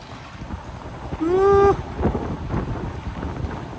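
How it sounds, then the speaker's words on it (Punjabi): Strong wind gusts around a truck-mounted crane outdoors in the cold, a steady rough rush of air with a brief rising whistling tone partway through. "ਹਵਾ ਬਹੁਤ ਚੱਲਦੀ ਆ ਹਵਾ 'ਚ ਝੂਲਦੀ ਰਹਿੰਦੀ"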